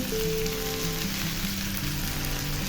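Cabbage going into a pan of mixed vegetables, giving a loud, steady, close sizzle and crackle of frying with faint stirring, continuous throughout.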